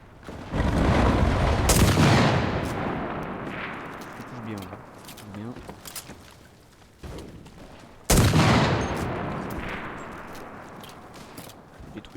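Gunshots in the WWII shooter game Enlisted ring out in two loud, sharp bursts, each trailing into a long, reverberant rumble of distant battlefield fire.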